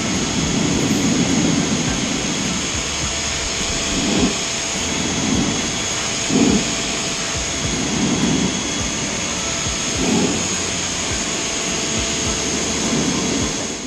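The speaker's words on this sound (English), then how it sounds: "I'm going to try out my diving board first of all. Put it on the wider nozzle" A SunJoe pressure washer cleaning a diving board through a wide nozzle, giving a steady loud hissing roar of spray and pump close by, with soft pulses as the jet sweeps across the surface.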